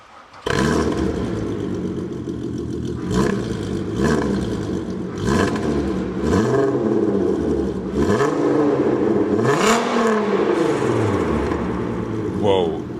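Engine of a VW Golf GTI Roadster race car revving repeatedly in rising and falling sweeps, loud and close, with strong bursts through most of the recording.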